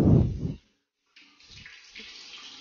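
A flushless western toilet releases water after its switch is pressed, a steady rush of flowing water that starts after a brief silence and continues moderately loud to the end.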